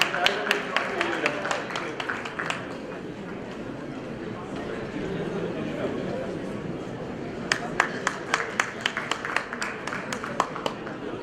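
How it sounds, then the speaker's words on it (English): Audience at a Rotary district event clapping, with sharp bursts of claps at the start and end and a murmur of crowd noise between them. "Dear friends, let's give them a big round of applause for the dynamic Rotary leader."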